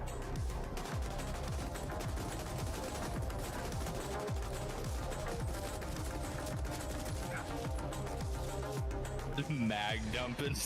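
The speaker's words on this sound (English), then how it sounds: "Mag dumping somebody where you're standing 3 inches from them." A gun emptying its magazine at point-blank range in the game The Ascent: dense, continuous rapid gunfire mixed with explosive crashes and a loud game soundtrack, with people talking over it.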